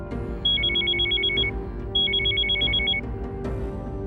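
A phone rings in two warbling bursts, each about a second long, clear over a low background hum.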